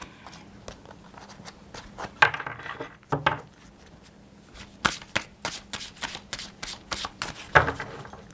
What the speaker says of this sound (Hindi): बहुत सारे कार्ड्स गिर गए हैं